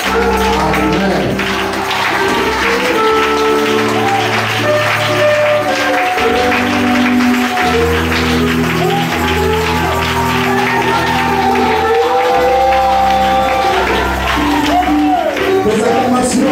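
A church congregation cheers and applauds loudly and continuously in a French-language service, with shouts and voices mixed into the clapping and sustained musical tones underneath throughout.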